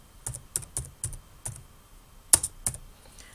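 An author's surname is typed into a search field on a computer keyboard: about ten crisp, separate key clicks at an uneven, unhurried pace, close and clear, with no voices.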